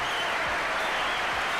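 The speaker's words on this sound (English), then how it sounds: "Big round of applause for Donald Trump." Steady, dense applause from a crowd, a continuous even wash of clapping at constant level throughout.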